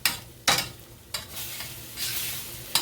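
Mushrooms cooking down in a pan, a soft sizzle under repeated scraping stirs, with a few sharp utensil strokes against the pan nearby.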